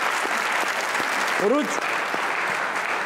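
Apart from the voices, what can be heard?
studio audience applause for Urooj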